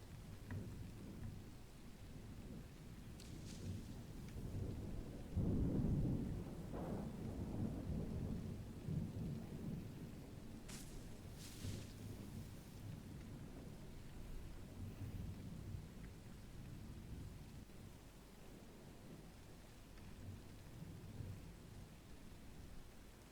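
Low, rolling thunder rumbles through steady rain in an open field, swelling briefly into a louder roll before settling back into a distant grumble.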